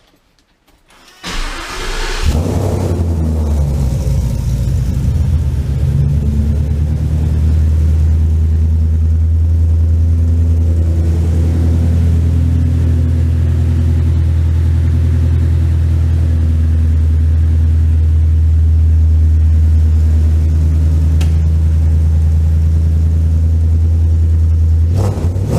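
Coyote V8 swapped into a Ford Ranger cranks and fires on a cold start, then settles into a loud, deep, steady idle rumble that stays close and constant.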